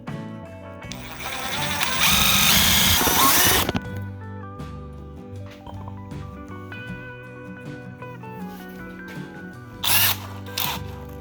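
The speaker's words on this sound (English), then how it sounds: "I'm going to drill the hole for the tailpipe elbow." A power drill bores a hole for a tailpipe elbow on an RV generator exhaust chimney, with a loud burst of whining drilling for about two seconds, then quieter clicks and handling sounds and two brief later bursts.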